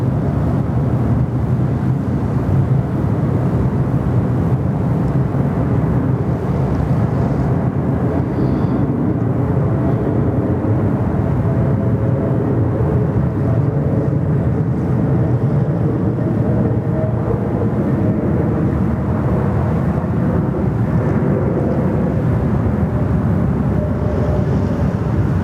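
A Qantas flight arriving from Los Angeles on runway 34 left at Sydney Airport, a steady low rumble of airliner noise lasting throughout, moderately loud and fairly even with no talk.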